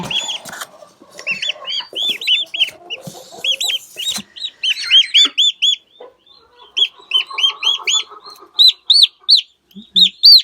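Shrill, repeated peeping and chirping from young turkey poults, close and busy, with brief pauses between bursts and a little soft clucking.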